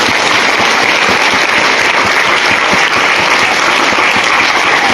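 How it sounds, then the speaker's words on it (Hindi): An audience applauds at a church gathering, with dense, steady clapping that stays loud and continuous throughout and no speech over it. "आइए तालियां बजाइए इन लोगों के लिए।"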